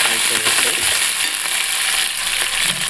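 Ginger garlic paste and curry leaves fry in hot oil for a spicy pulusu, giving a loud, continuous close-up sizzle with faint stirring scrapes and no talking.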